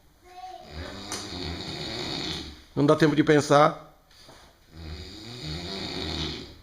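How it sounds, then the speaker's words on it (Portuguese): A pig snores at close range, drawn-out rasping snorts rising and falling, with one louder burst of grunting snores in the middle, while someone talks quietly over it. "O cara não para de roncar."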